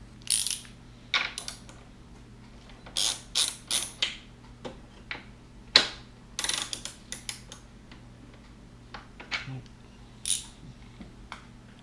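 Metallic ratcheting clicks from a wrench tightening strut bar bolts on a 2005-2010 Scion tC, short irregular bursts close by over a steady low hum.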